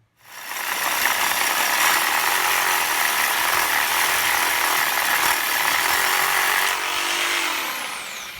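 A power tool cuts through metal hot rod header tubes with a sustained, loud, high whining grind that runs steadily for several seconds before tapering slightly at the end, close up with no talk.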